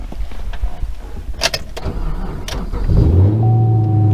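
A 2012 Chevrolet Camaro 2SS V8 cranks and fires up near the end after a few seconds of background clatter and rustling, then settles into a loud, steady, deep idle rumble close by.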